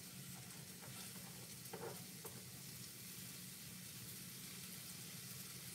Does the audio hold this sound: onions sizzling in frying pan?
yes